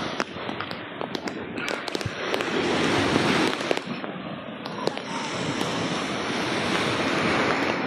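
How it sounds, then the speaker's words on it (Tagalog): Loud ocean surf roars continuously as strong waves crash and wash onto the shore at Pico de Loro beach, Nasugbu, Batangas, with sharp splashes breaking through the steady rush. "ang lakas kasi ng alon eh"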